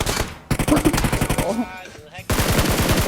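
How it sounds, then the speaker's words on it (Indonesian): Rapid automatic weapon fire from a battle royale shooter game crackles loudly in short bursts separated by brief pauses, with a player talking over it. "Bangsat Pak Wahyu, gue nggak nembak, dia yang nembak."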